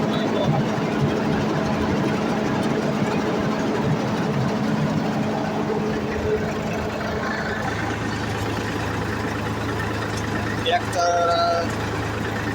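A Jalaram peanut cleaning machine with a motor and blower, hooked to a tractor, runs as a loud, steady mechanical drone that shifts to a deeper idle partway through.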